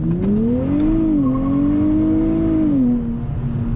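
A Nissan Z with traction control off, its engine revving in a steady sustained rise and hold as the wheels spin easily, loud and close, then easing off at the end.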